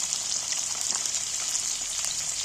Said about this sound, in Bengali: কাটা আলু তেলের মধ্যে তুলে দেবো